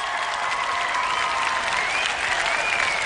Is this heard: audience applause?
yes